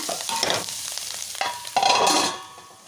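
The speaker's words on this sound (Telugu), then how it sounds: "ఈ ఆయిల్లో అయితే ఈ తోటకూరను కూడా ఫ్రై చేసుకోవాలి" Amaranth leaves fry in hot oil and are tossed in the pan, giving a loud, close sizzle with surges of crackling as the leaves are stirred, then easing off at the end.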